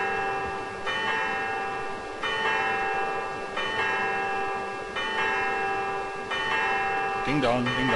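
A mechanical automaton bell in the Syberia adventure game, fed with punch cards, chimes a repeating ding-dong pattern in steady rounds of ringing tones, with a voice imitating the ding-dong over it.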